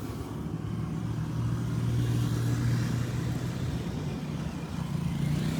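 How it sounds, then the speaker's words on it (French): Steady motorcycle traffic rumbling close by, a continuous drone of engines with a low hum running throughout and no horns standing out. "Le bruit même des motos, le klaxon des motos, c'est très important."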